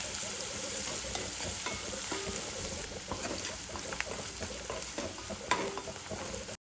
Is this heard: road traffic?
no